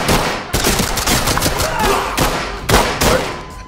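Rapid gunfire hitting the player in Civilian Shooting Simulator, a loud close burst of repeated shots and impacts firing in quick uneven succession for a few seconds.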